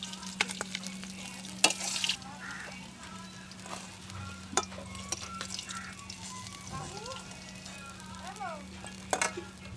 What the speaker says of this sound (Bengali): চলো ভাজি, মাছটা ভেজে নামাই